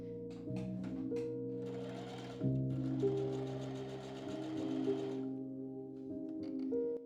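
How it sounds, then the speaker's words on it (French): Sewing machine running flat stitching around a traced line on a sleeve, a sustained tonal motor whir with rapid needle clatter, starting and stopping a few times at close range. "je commence ma piqûre tout autour de mon tracé"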